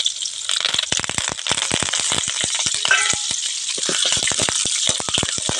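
Chana dal, mustard seeds, green chilli and curry leaves fry in hot oil with dense, rapid crackling pops over a constant sizzle, close up and loud, with no speech.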